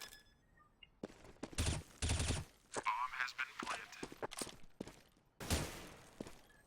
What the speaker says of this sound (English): Oxio just nails the last bullet onto Trollolol.